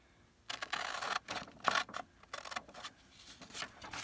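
Paper being cut straight across with scissors, shown with a kit made of envelopes, postage and playing cards: several crisp snipping bursts follow one another up close, with no talking.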